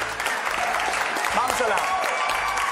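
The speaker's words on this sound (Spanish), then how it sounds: "Un aplauso para el." Audience applause for Manolo at a cooking event, steady clapping filling the clip with people talking over it.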